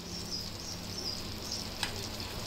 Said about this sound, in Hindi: इसको आपने बस हल्का सा ही फ्राई करना है, उसके बाद निकाल लेना है।